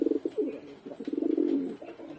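Pet black-green pigeons coo in soft, low, throaty bursts that ripple and repeat close by, fairly quiet with no talking over them.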